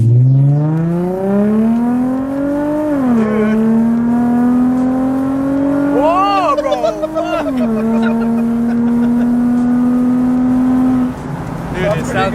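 An Infiniti G35 with muffler delete and test pipes revs loudly and close, its exhaust holding a deep droning tone that climbs, dips and rises again through repeated throttle blips, with a person speaking over it.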